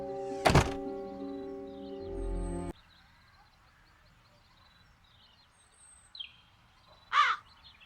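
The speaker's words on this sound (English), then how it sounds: "You'd better start catching those crows." Crows caw in the fantasy adventure game The Dark Eye: Chains of Satinav, one loud harsh call near the start and another later, over a quiet ambient background with a heavy thunk.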